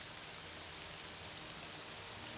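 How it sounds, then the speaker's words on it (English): Steady rain from The Elder Scrolls III: Morrowind, a faint, even hiss of falling drops with no distinct spatters, running unbroken and alone. "Oh, hey, it's raining."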